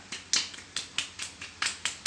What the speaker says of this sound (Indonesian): mari tepuk tangan ya Ibu Ani ya